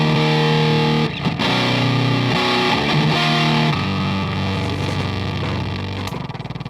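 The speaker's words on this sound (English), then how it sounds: "this wall of sound fuzz stuff coming out of it" A fuzz pedal drives an electric guitar into a dense, saturated wall of distortion, with sustained chords that shift every second or so, loud and continuous with no voices.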